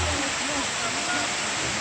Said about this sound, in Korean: 정말로 멋있는 곳 이거 군장폭포